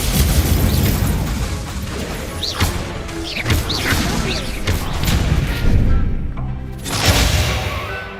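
Incendio fire spells from Hogwarts Legacy burst repeatedly, several whooshing, booming blasts with crackling tails over a busy background of other game sounds.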